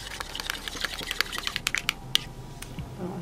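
Whisking a vinaigrette of garlic, a little water, vinegar and oil, with rapid close clicking and tapping of a utensil against a bowl throughout.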